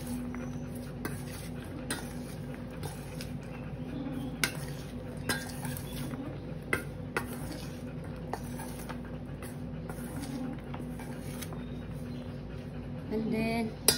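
Fish lumpia filling being mixed in a bowl, giving steady scraping and stirring with repeated sharp clicks of a utensil against the bowl and a low background hum.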